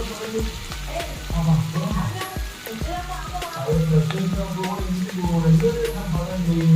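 Chana dal and potato curry sizzling in a pan right after chili powder goes in, a dense steady crackle and spatter with occasional clinks of stirring, while someone speaks over it.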